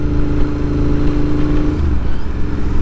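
A Royal Enfield Interceptor 650 motorcycle accelerates on a ride, its loud, close engine holding a steady throbbing drone before the pitch drops as it shifts, with no talking.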